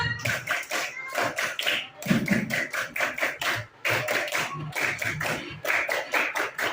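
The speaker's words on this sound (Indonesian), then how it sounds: "Oke, tepuk pramuka dulu." Children perform the Indonesian scout clap (tepuk pramuka) in a classroom, a rapid patterned series of sharp hand claps in rhythmic bursts with brief pauses between phrases, close and clear, with no talking.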